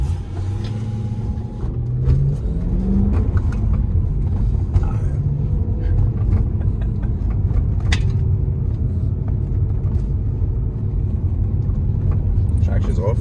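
A BMW E93 M3 rumbles and revs while doing donuts, its engine drone loud and close throughout and rising in pitch early on, with people talking over it.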